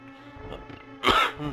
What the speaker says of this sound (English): you get to hear me cough once